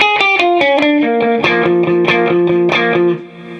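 Electric guitar plays a riff with accents, in a driving run of sharply picked double-stop notes that ends on a fading chord; loud, close and alone.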